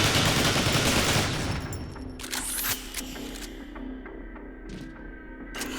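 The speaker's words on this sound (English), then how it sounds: "The machine gunner is, of course, naturally equipped with the Neutron Assault Rifle." Neutron Assault Rifle from Transformers: War for Cybertron firing a dense burst at the start, then sparse metallic clicks and short shots over a faint electronic hum.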